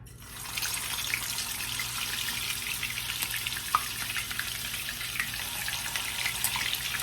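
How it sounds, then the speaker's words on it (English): Bacon-wrapped Twinkies fry in a little oil in a pan, a steady, fairly quiet hiss and crackle that holds continuously throughout, with no talking. "They are frying away."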